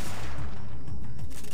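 Shotgun blasts from the video game Parasite Eve 2: a loud, dense run of booming shots fired in quick succession, with no talking.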